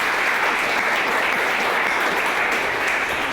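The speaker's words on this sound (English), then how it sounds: "Can we give Corey a round of applause just for that?" A studio audience at a business talk claps in a steady, dense burst of applause that stays loud and even throughout, with no talking over it.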